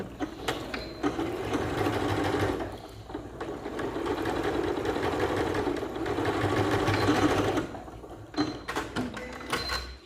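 A sewing machine stitching along joined bias tape on the diagonal runs in two long steady whirring passes with a short break between, close and alone, followed by a few light handling clicks.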